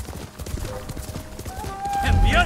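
Horse hooves clip-clopping in the game Ghost of Tsushima, a quick steady run of hoofbeats with someone speaking over them.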